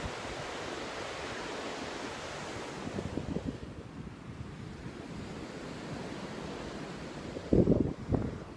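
Ocean waves wash steadily onto a Bali beach, a continuous broadband roar with wind noise on the microphone and a louder surge breaking near the end.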